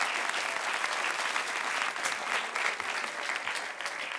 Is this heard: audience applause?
yes